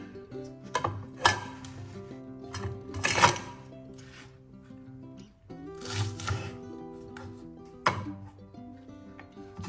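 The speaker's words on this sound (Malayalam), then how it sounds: "ആദ്യം നമുക്കിത് വലിയ ഇതെല്ലാം കട്ട് ചെയ്ത് മാറ്റാം." A knife cuts spring onions on a board, giving scattered, sharp taps and short crunchy bursts at an uneven pace against a quiet kitchen background, with no talking.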